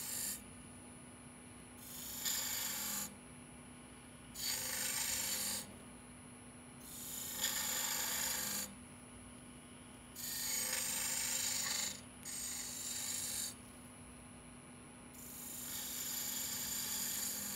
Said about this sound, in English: I'm going to make a V groove with the skew.